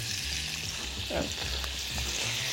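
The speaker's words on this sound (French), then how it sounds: "le beurre va fondre, on va avoir du beurre liquide, puis il va mousser" Butter melting and foaming in a pan on its way to brown butter, a steady soft sizzle and hiss with a faint stir partway through, close and with no voices.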